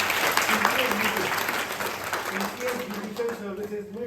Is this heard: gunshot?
no